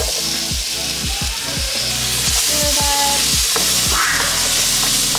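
Onions and zucchini frying in olive oil in a pan, a loud, dense, close sizzle over a rhythmic series of low thumps and scrapes as the vegetables are tossed by hand.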